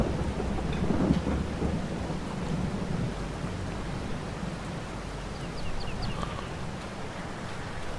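Steady rain with rolling thunder in Farming Simulator 22 during a canola harvest, a dense hiss of downpour with low rumbles and a stronger crack near the start, continuous and close.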